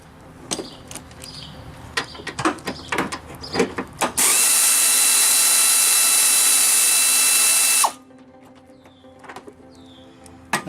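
Ratchet clicking on 15 mm bolts while fitting a radiator to a 2000 Bonneville, a run of sharp close clicks, then a few seconds of loud steady hiss before the clicking resumes.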